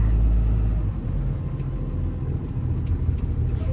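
A 2015 Ford F750 truck with a 300-horsepower Cummins 6.7 ISB diesel and air ride drives along, its engine a low, steady rumble that dips briefly, then holds on, close by and with no voices.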